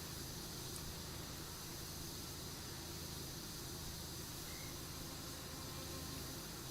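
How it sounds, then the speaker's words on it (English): Steady, even white-noise hiss from a pressure washer spraying in Powerwash Simulator 2, quiet and unbroken from start to finish with no other sounds. "sound of the pressure washer, since you don't have the roaring sound of a high pressure tank in operation, gives you kind of a nice white noise effect."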